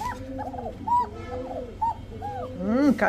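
A pet pigeon coos close by in a series of short, rising and falling throaty notes, a bit irregular in rhythm, with a louder call at the end.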